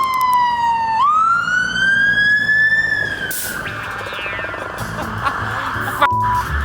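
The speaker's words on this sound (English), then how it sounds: "that is a siren" A loud emergency siren wails and sweeps in pitch nearby on a London street, with traffic rumble underneath and a brief clatter near the end.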